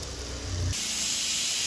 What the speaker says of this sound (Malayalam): അങ്ങനെ നമ്മളെ കുക്കർ ഒരു വിസിലടിച്ചു